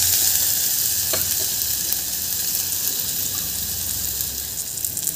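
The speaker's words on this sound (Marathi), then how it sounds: "कांदासुद्धा आपल्याला थोडंसं छान परतून घ्यायचं आहे 2-3 मिनटं।" Onion sautés in a pan as the start of a vegetable clear soup, with a continuous close sizzle and occasional light stirring scrapes and no voices.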